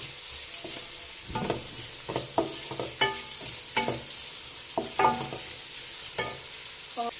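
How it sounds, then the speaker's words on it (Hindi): Long-sliced onions fry in oil with a constant sizzle, repeatedly stirred with a utensil that scrapes and clinks against the pan at an uneven rhythm, close up and without talking. "चलें जी, इसको गोल्डन ब्राउन करते हैं प्याज को।"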